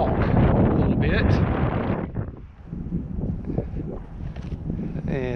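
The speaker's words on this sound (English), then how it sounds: "Now the wind's going a different direction." Wind blows outdoors at an airfield where an Air Tractor aircraft operates, buffeting the microphone with loud, gusty low rumble that rises and falls throughout.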